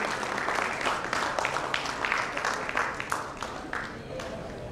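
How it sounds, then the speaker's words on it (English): Audience at an award ceremony applauds for a finance company winning an organisation-of-the-year award, a moderately loud burst of clapping that gradually tapers off, with a little talk mixed in. "can we have a huge round of applause, everyone?"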